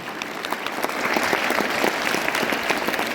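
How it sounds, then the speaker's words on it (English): Steady applause from a crowd at a school morning assembly, a dense patter of clapping hands that holds at an even level throughout. "Let us applaud for them."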